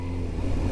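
Engine of a Yamaha R7 OW-02, an early fuel-injected sport motorcycle, opened up: a brief, steady, loud droning howl with strong low harmonics, heard alone.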